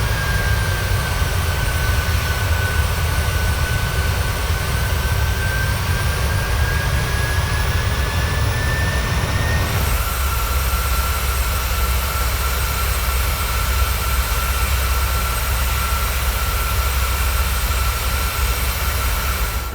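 A simulated airliner's jet engines roar loud and steady during the climb after departure, a constant near drone with a high whining tone that shifts partway through.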